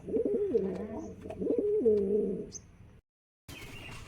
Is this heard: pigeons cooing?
yes